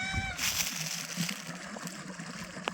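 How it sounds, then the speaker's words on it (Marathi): Irrigation water flowing and sloshing steadily into a sugarcane field nearby, a soft continuous gurgle with faint background noise. "इथे पप्पा पाणी देत आहेत उसाला टी चालू आहे"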